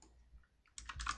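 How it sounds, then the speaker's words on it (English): A loud computer keyboard clatters close by in a quick burst of several sharp keystrokes after a brief quiet moment. "it's just my keyboard's very loud sometimes"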